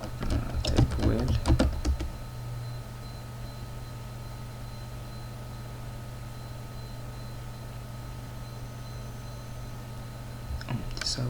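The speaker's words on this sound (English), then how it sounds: "We type the password." Computer keyboard typing while entering a password on a Red Hat system: a quick flurry of key clicks at the start, then a long steady hum, and a few more keystrokes at the end.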